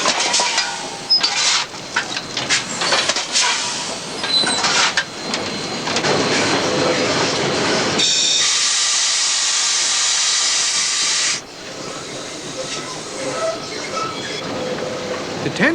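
A steam train rumbles and hisses close by, with a strong burst of steam venting steadily for several seconds before the chugging resumes.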